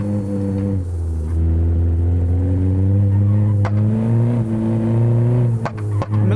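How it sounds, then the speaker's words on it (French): A Hyundai i20 N engine in BeamNG Drive juddering as it runs out of fuel, a loud steady low drone with strong harmonics and irregular clattering jolts, near and alone without talk. "la voiture elle broute. Écoutez."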